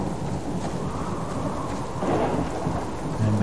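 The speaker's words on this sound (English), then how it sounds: "And with the storm raging" A steady wash of heavy rain in an outdoor forest storm with a low rumble of thunder swelling midway, continuous and close, with no talking.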